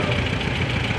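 A 1950 Farmall Super M tractor idles and rumbles steadily in an antique tractor parade in Berryville, Virginia, its mid-low engine drone continuous and fairly close, with crowd noise and talk mixed in.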